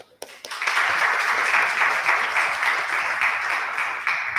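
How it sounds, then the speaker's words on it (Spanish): A crowd at a science expo in Nicaragua breaks into applause, a steady, even wash of clapping that swells quickly after a couple of isolated claps and holds for several seconds. "Muy bien, démosle un aplauso."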